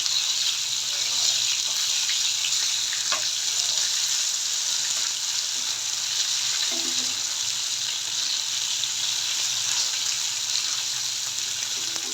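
Catla fish frying in hot oil in a pan, a steady close sizzle and crackle that holds evenly through the whole stretch, with no talking.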